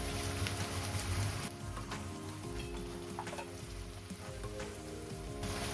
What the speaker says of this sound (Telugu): ఇది కొంచెం బ్రౌన్ కలర్ వచ్చే వరకు మనం ఫ్రై చేసుకుందాం.